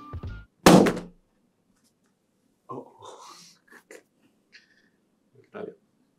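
An ASUS ExpertBook P3 laptop is dropped, giving one sharp loud thunk near the start, followed by scattered quiet sounds and brief voices.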